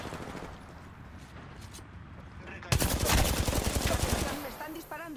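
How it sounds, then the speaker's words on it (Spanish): Automatic weapon fire in Apex Legends bursts in suddenly after a quieter stretch, a loud close rapid rattle of shots that fades toward the end over game background sound. "Me están disparando."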